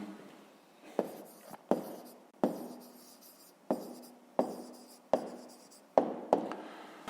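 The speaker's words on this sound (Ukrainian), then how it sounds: "Ну що ж, записуємо відповідь, пишемо відповідь." Pen writing an answer by hand in a notebook, a series of close, soft scratchy strokes coming in short bursts about a second apart, each fading quickly, with no one speaking.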